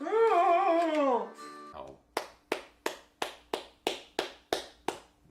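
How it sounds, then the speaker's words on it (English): Nine slow, evenly spaced hand claps ring out clearly, each crisp and distinct with a short tail, following a stretch of sung or melodic voice at the start. "That is not sarcastic clapping."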